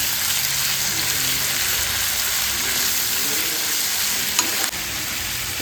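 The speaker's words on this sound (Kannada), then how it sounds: "ಟೊಮೊಟೊ, ಕರಿಬೇವು, ಈ ಮೂರೂ ಫ್ರೈ ಮಾಡ್ಕೊಳ್ತಾ ಇದ್ದೀನಿ." Tomato and curry leaves frying in a pan, a steady close sizzle with occasional stirring scrapes, alone without talk.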